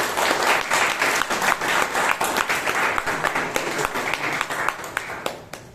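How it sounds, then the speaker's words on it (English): Audience applause at a Toastmasters meeting in Bangalore, a full round of many hands clapping steadily and loudly, slowly thinning toward the end. "can we have a big round of applause for ourselves?"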